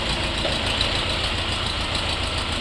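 An Orion RF404 mini tractor's engine idles steadily nearby, a loud, even diesel-like rumble with a rapid knocking pulse that holds constant from start to finish, with no one speaking.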